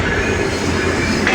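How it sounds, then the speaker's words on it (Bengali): The Panchagarh Express, an intercity train bound for Dhaka, rolls into Dinajpur railway station with a loud, continuous rumble of wheels and carriages and a brief squeal near the end. "পঞ্চগড় থেকে ছেড়ে আসা ঢাকা অভিমুখী আন্তনগর পঞ্চগড় এক্সপ্রেস ট্রেনটি দিনাজপুর রেল স্টেশনে প্রবেশ করতেছে।"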